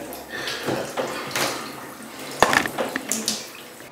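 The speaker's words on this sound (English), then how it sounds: "there you go, it's bubbling out slowly there." Cleaning fluid bubbling and trickling out of a PC watercooling radiator as it is flushed from a slowly running tap, with soft gurgles, a few sharper splashes and drips, and faint background noise.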